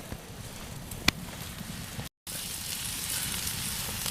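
Steak sizzling and crackling over a campfire by a lake at Lake Saint Peter Provincial Park, a steady close hiss with a sharp pop near the start and a brief dropout midway.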